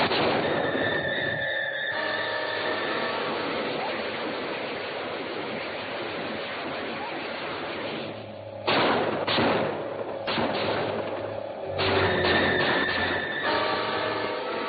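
Artillery fire in the 1956 film Earth vs. the Flying Saucers, rumbling barrages and heavy thuds over a dense wash of battle noise, with louder bursts of shots toward the end.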